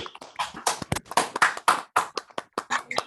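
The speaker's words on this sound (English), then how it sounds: "let's briefly unmute ourselves and applaud for Misha." Scattered handclaps from a small online audience after a mathematics talk on collapsing surfaces, sounding as uneven, separate bursts of clapping over about three seconds rather than a full steady roar.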